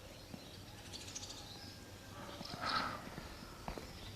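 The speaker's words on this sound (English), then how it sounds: "And I was woken by the sounds of so many different birds." Birds chirp and call faintly across a quiet morning on Corfu, a few distinct tweets standing out against soft outdoor ambience and occasional footstep-like taps.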